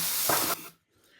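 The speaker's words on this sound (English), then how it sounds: "A bit of a sizzle." A short burst of bright hissing sizzle that cuts off abruptly, followed by near silence and a faint fading tail.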